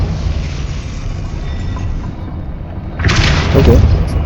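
Depulso spell cast in the Hogwarts Legacy video game: a sudden loud magical burst, boomy with a bright crackling whoosh, rising over steady game ambience and lasting about a second.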